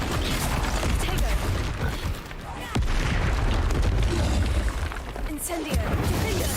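Confringo spell blasts in the video game Hogwarts Legacy, several sharp booming bursts and impacts over a dense, noisy combat mix, with brief quieter gaps between hits.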